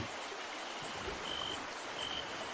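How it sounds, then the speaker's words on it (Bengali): River water laps and splashes against a small boat at night in an animated horror story, a steady, soft, continuous wash with no voices. "কেবল জলের ছলাৎ ছলাৎ শব্দ"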